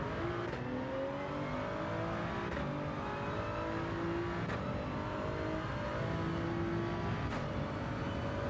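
A Toyota Supra race car's engine drones steadily at the Red Bull Ring in a racing video game, its pitch rising and falling through repeated gear shifts, with a continuous loud hum and faint tire noise.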